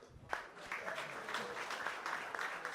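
Applause from a panel audience at a venture capital event, a steady wash of clapping that holds for the whole stretch at moderate volume with no voices over it.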